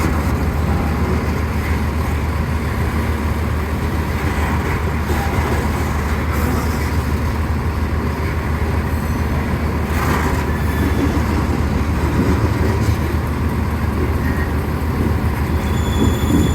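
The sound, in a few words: train wheels rolling and squealing on railroad curve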